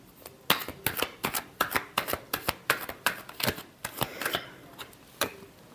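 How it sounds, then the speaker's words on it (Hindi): Tarot cards being shuffled by hand, a quick run of crisp riffling slaps and flutters in an irregular rhythm, close and fairly quiet, with no talking. "Last shuffle."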